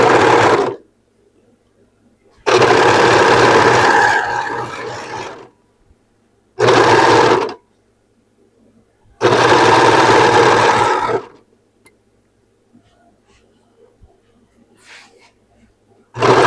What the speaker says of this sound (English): Now let's sew the other one.